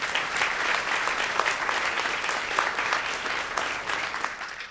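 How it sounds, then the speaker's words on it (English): Audience applause for a poet at an innovation conference, a steady, lively round of many people clapping at close range that carries on for several seconds without talk. "Give her a clap."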